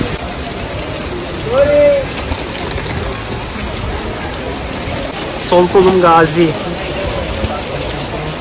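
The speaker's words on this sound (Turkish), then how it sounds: "yağmur gittikçe şiddetini arttırıyor" Heavy rain pours steadily onto a street in Rome, a dense constant hiss close to the microphone, while someone talks over it and a few short chirps cut through.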